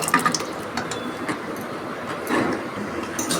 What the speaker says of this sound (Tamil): வேக வச்ச பருப்பு தூக்கி ஊற்றிடுவோம்.